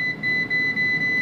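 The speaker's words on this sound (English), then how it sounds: "Although the beeps were kind of rough" A steady high electronic air fryer beep held over a low mechanical hum, with a second fainter tone above it, continuous and fairly quiet.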